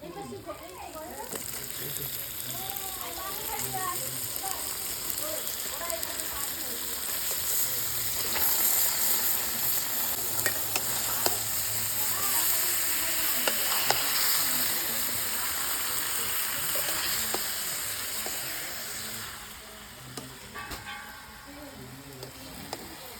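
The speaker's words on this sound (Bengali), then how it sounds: "ভালো করে কষানো হয়ে গেছে এবার মাংসটা দিয়ে দেবো" Meat frying in a pan after the spices have been cooked down, with a broad, steady sizzle and hiss running throughout, close and moderately loud, while a person talks over it for much of the time.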